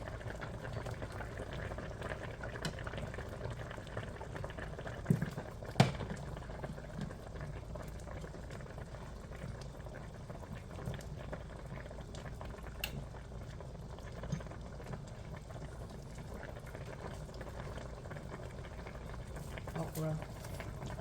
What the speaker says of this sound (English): it's been boiling